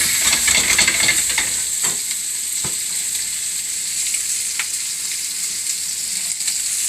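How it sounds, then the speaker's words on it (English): Garlic and Swiss chard sautéing in a hot pan, a loud continuous bright sizzle and hiss with a few scattered stirring knocks, no talking. "Garlic's in. That's all Swiss chard."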